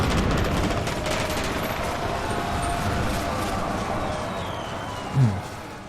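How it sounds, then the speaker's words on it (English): A gunfire barrage from emplaced batteries in the To End All Wars video game rolls on as a dense, continuous rumble of shots throughout, with one sharper blast near the end. "they had emplaced batteries, so yeah, they opened up with quite the devastating barrage"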